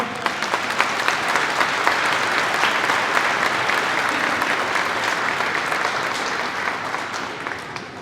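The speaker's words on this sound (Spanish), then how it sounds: "Recibamos con un fuerte aplauso" Sustained applause from a large audience at a Chihuahua government report event, welcoming the state's secretary general of government; loud, continuous clapping that holds steady for the whole stretch, then eases slightly at the end.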